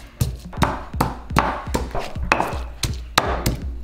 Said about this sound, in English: I'm going to mash the garlic and ginger into a paste.